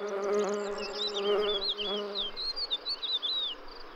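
A defensive bee buzzes in a spring meadow, a close, steady droning hum that wavers in pitch, with faint bird chirps twittering in the background.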